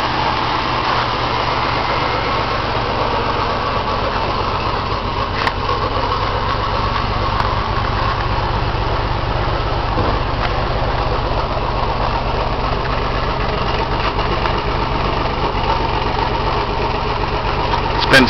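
A 1990 Pontiac Grand Prix McLaren Turbo, started again after sitting for about eight years, idles with a steady, close and loud engine drone that stays even throughout.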